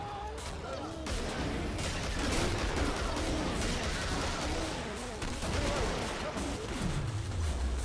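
Dense, continuous automatic gunfire and explosions in the video game Killing Floor, loud and chaotic throughout, with a falling tone near the end.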